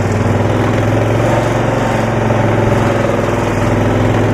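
Engine of a 1972 Cushman pickup running steadily at close range with a low, even throb and a slightly uneven carbureted character, loud and continuous with no talking.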